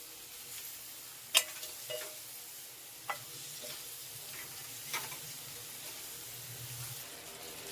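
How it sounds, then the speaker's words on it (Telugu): Drumsticks frying briefly in a pan for an egg curry, a low steady sizzle broken by a few sharp clinks and scrapes of stirring, fairly quiet and close with no talking. "1 నిమిషం ఫ్రై అయితే చాలు మునక్కాయ."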